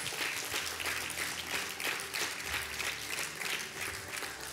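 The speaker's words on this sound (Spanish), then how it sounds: "Dale un aplauso al Señor." Congregation applauding during a church service, steady sustained clapping from many hands filling the room, fairly close and loud, with no talk over it.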